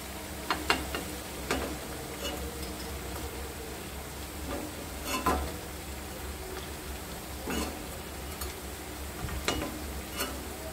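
Malabar spinach leaf fritters fry in hot oil as a continuous soft sizzle, broken by occasional sharp pops and clicks.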